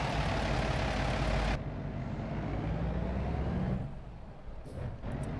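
A Volvo truck in American Truck Simulator, pulling an oversize load, with a loud engine roar that cuts off abruptly and settles into a lower, steady rumble with a faint hiss near the end.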